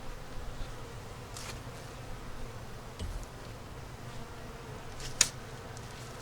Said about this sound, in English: See, it's got a pretty good bit of bees in it.